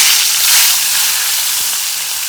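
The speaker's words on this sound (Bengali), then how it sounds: "5 রকমের ভাজাগুলো ভেজে নেব।" Pointed gourd, bitter gourd, potato and eggplant fry in hot oil with a loud, bright, close sizzle that fades slightly over a couple of seconds.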